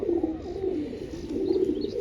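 A pigeon with yellow eyes gives a low, throaty coo that rolls steadily on for a couple of seconds, close and soft against a faint hiss of background noise.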